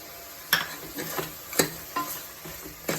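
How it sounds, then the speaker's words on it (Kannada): Mutton sizzles in a pan while being cooked for mutton saaru, a soft hiss under a few sharp metallic taps and clinks of a stirring spoon against the vessel, spaced about a second apart. "ನೋಡಿ ಫ್ರೆಂಡ್ಸ್ ಇವಾಗ ಮಟನ್ ಬೇಯ್ತಾ ಇದೆ"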